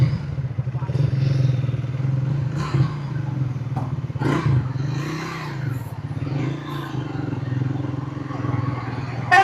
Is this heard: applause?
no